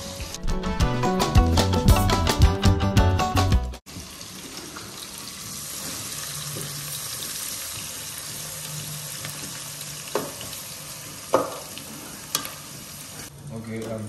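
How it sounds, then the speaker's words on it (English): Mixed vegetables frying gently in oil, a soft steady sizzle with occasional stirring clinks, following a few seconds of loud music that cuts off abruptly. "so now you're putting in the mixed veg gently"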